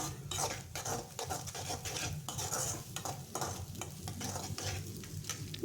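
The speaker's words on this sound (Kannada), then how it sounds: "ಹಾಗೆ ಚೆನ್ನಾಗಿ ಫ್ರೈ ಮಾಡ್ಕೊಳ್ಳಿ ಮೊಟ್ಟೆನ" Eggs frying and being stirred in a pan with onions for egg fried rice: a loud, continuous sizzle with repeated scraping and stirring strokes throughout.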